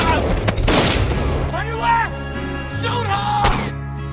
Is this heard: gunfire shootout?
yes